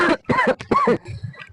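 A rough, hacking cough bursts out three times in quick succession from a man, close and loud, followed by a few quieter breathy sputters.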